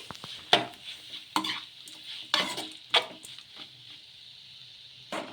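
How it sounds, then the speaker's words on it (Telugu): A utensil stirs grated carrot and potato cooking in a pan, scraping in several distinct strokes over a faint steady sizzle, close and without talk. "అలాగే క్యారెట్ తురుము కూడా వేసుకోవాలి వేసుకొని మొత్తం ఒకసారి బాగా కలిపేసుకున్నాము"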